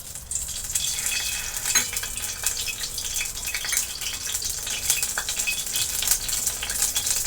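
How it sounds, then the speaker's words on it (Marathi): Continuous hissing sizzle of onion frying in hot oil in a kadai, with occasional scraping and light clinks of a utensil; no voices. "कांदा व्यवस्थित लालसर भाजून घेणार"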